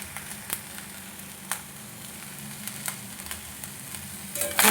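Fried rice sizzles steadily in a pan as salt, pepper and sugar are stirred in, with close scraping strokes of the spatula sounding every second or so over the constant frying hiss.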